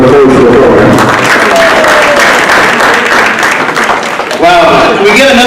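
An audience at a city of Seaside community event in Monterey County applauds in a loud, sustained round, with someone speaking over the clapping and cheering.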